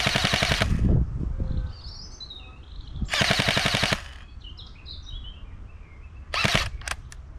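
An airsoft AEG rifle fires three sharp full-auto bursts outdoors at an 80-meter range, each a rapid mechanical rattle lasting under a second, with faint birdsong in the quiet gaps between.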